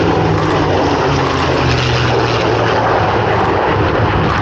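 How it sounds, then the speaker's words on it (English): An RAAF F-35 fighter jet flying at an airshow produces a loud, constant roar that fills the whole moment without breaks, dense and steady with no talk over it. "the F-35 today flown by Squadron Leader Ross Bowman, operating from, as call sign, Maple 11"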